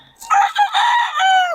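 A rooster crows loudly and close by, one long cock-a-doodle-doo call rising and holding before trailing off.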